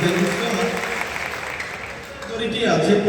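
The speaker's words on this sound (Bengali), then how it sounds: "বসুন্ধরা গ্রুপের জন্য একটা হাততালি হবে।" Audience applause at a stage magic show during a corporate carnival: a dense, steady clapping crowd fills the whole stretch, swelling slightly toward the end, with no talk over it.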